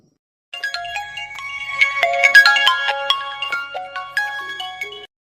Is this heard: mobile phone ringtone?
yes